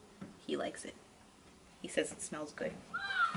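A house cat meows indoors near the end, a short clear call following quiet talk from a woman nearby.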